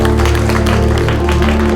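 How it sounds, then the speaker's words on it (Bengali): Loud applause from a studio audience at a big-money stage contest, dense clapping throughout under a steady sustained musical tone. "সবাই জোরে হাততালি দাও।"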